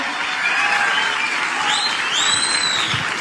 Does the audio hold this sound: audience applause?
yes